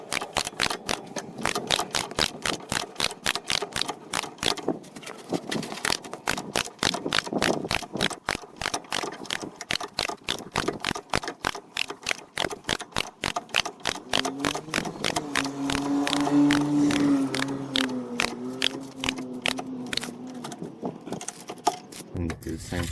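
A bolt on a Fiat 500 shock absorber is tightened with a rapid, steady ratcheting click that runs unbroken through the whole stretch, close and fairly loud, with a soft hum rising briefly near the end.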